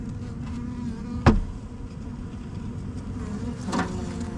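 Honeybees from a package being dumped into a hive buzz in a steady, close drone, broken by a sharp thump partway through and a fainter knock later.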